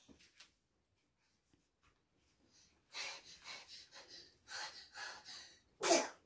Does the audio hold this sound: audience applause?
no